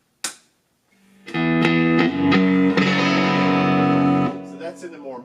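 An electric guitar is struck once, then a chord rings out with distorted tone through a Carl Martin Headroom spring reverb pedal and Fender Deluxe amp, a washy reverb tail fading over several seconds.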